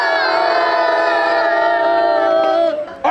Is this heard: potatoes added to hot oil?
no